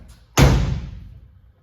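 A side door on an International truck fitted with a new seal swings shut with a single firm thud, a sharp impact that decays over about a second, close by with no talk.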